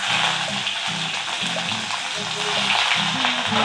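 Ginger sizzles in hot oil in a wok with cumin and asafoetida, a steady loud frying hiss with soft rhythmic stirring scrapes underneath.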